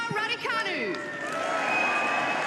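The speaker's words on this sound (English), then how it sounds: "that's a loud cheer for Emma Raducanu as she walks onto the Andy Murray Arena" Loud crowd cheer in a tennis arena as a player walks onto court, a broad roar of voices that swells and sustains, with a commentator talking over the start.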